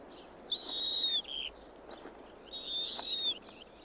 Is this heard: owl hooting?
yes